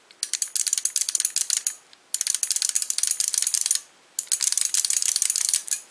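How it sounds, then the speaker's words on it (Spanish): Mayflash F300 arcade fightstick lever being moved, giving three bursts of fast, close clicky ratcheting rattles with short pauses between them. "quiero que escuchen cómo hace esta palanca."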